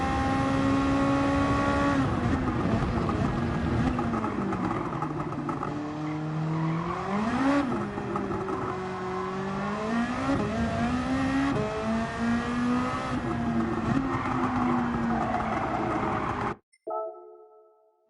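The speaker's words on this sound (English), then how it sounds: "Traction control really slows down this car." A car engine revs and accelerates through rising and falling gear changes in Gran Turismo 7 with traction control on, loud and continuous, then cuts off abruptly near the end.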